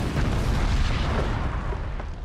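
Paint fumes inside a tank explode when an open flame ignites them, giving a loud, rumbling, broadband boom that rolls on for about two seconds before slowly easing.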